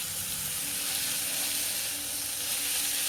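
Chopped tomatoes sizzle and fry steadily in a pan for Indian street-style masala pasta, a close, even hiss that holds at one level throughout.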